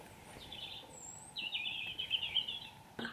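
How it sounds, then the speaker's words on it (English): Birds sing late in the evening, faint high chirps and a longer trilling phrase against quiet background noise. "It's getting so late and you can still hear the birds."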